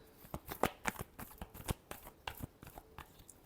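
Tarot cards are shuffled by hand in a quick series of soft riffling snaps and slaps, close and fairly quiet, with no voice over them.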